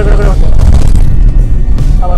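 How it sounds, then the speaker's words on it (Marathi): A car rolls over large rumble strips on the Mumbai–Goa highway, making a loud, continuous low thudding rumble from inside the cabin, with a brief voice at the start and end. "रमलर एवढे मोठे आहेत ना की गाडी स्पीड ब्रेकर गडगड होते."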